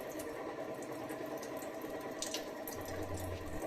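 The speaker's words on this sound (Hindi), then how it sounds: "देखिएगा प्रॉपर तरीके से प्योर वाटर आ रहा है।" Purified water runs steadily from the outlet of an RO water purifier under repair, giving a continuous, soft, close trickling hiss with no voices.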